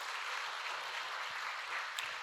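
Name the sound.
church congregation applause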